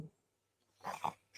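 A dog growls and grumbles in a short, low vocal burst after a brief pause, close and fairly quiet, with no one talking.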